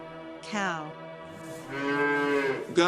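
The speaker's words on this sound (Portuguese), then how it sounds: "Vaca. Cow." Domestic cow lowing once with a drawn-out moo, then a second longer, deeper moo, heard close and clear with nothing else around.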